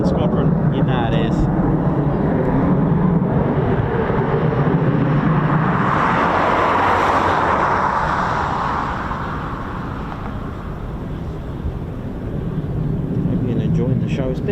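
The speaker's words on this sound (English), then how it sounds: "Lovely departures from Coningsby's 41 Squadron" Eurofighter Typhoon FGR4 jets depart RAF Coningsby as a distant roar that swells to a broad peak midway and then fades, with wind buffeting the microphone throughout.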